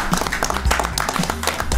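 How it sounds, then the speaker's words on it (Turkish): A short burst of clapping and applause from a group, brisk and fairly close, lasting just under two seconds. "Büyük bir alkış."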